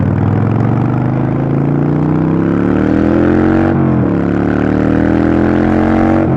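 A Harley-Davidson motorcycle exhaust rumbles loud and close, its deep, steady harmonics climbing as the engine revs, dipping briefly, then rising again.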